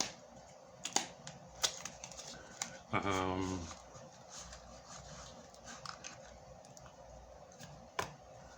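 A quick riffle of playing cards ripples for about a second, framed by scattered light taps and clicks of cards handled nearby.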